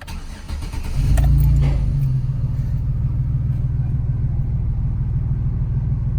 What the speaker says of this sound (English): Let's see if the car idle good now.